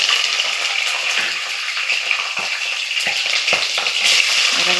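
Onions and green chili slits fry in hot oil with shahjeera and cinnamon for a chicken curry, giving a loud, steady sizzle with occasional clinks and scrapes of stirring.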